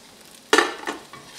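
A cabbage pie hits a very hot pan after being flipped, giving a sudden sharp sizzle that quickly fades into a soft fry, with a second smaller hiss and faint clink shortly after.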